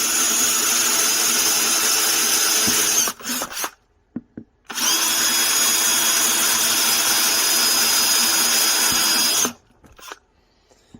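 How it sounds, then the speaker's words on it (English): A power drill whines loudly at close range in two long bursts while drilling plastic on a Ford Bronco rear door, separated by a brief pause with small clicks and rattles. "If you wobble the drill bit a little bit, it might help get rid of that plastic"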